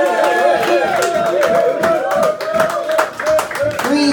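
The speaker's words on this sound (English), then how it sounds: "give her a big round of applause" Hands clap in a lively bar crowd while voices and music carry over the top, the clapping loud and uneven throughout.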